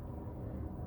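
An airplane passes outside on a foggy day, heard through an open window as a steady low rumbling drone, fairly quiet and continuous, with no speech over it.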